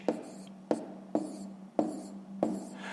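Pen or pencil writing numbers on paper while working a long division problem in a school maths exercise: five short scratchy strokes, each a sharp attack trailing off, spaced about half a second apart, close and clear.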